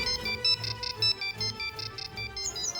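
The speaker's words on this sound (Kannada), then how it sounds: "ಒಂದು ನಿಮಿಷ ಮಾವ, ಸುರಭಿ ಫೋನ್ ಮಾಡ್ತಿದ್ದಾಳೆ" A mobile phone rings for an incoming call, its melodic electronic tone repeating in short, regular pulses, clear and close with no voices.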